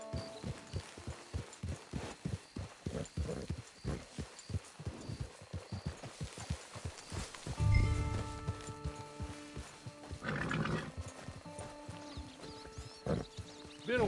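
Steady clip-clop of horse hooves at a walking pace in Red Dead Redemption 2 Online, close and rhythmic, with a few brief tonal game sounds layered in later.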